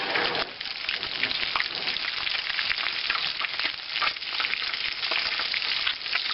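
An omelette fries in a pan with a steady, dense sizzle that stays loud and even throughout, close up and uninterrupted.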